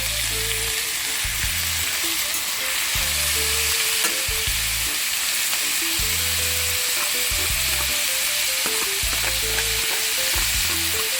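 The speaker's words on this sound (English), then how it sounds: "I'm gonna add my salt mackerel and fry it up a little bit for a minute and a half" Salt mackerel fries in a pan with a loud, continuous sizzle, crackling steadily up close, with intermittent low stirring or scraping sounds and no speech.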